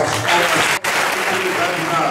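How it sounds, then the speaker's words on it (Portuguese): Church congregation applauding during a testimony service, a dense steady wash of clapping that fills the space, broken by a brief dip before continuing. "As palmas"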